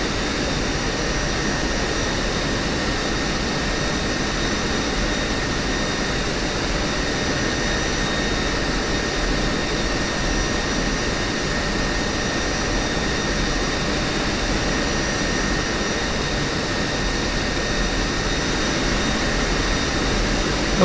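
An F-16 jet engine in a flight simulator game hums steadily while the aircraft taxis, a continuous broad roar with a faint high whine, unchanging in loudness throughout.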